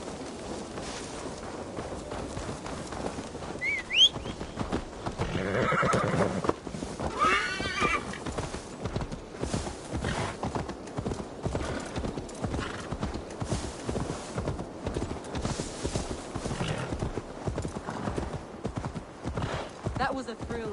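A horse in Assassin's Creed Valhalla trots with steady rapid clip-clopping hooves and lets out a sharp whinny early on, while in-game voices talk over the hoofbeats.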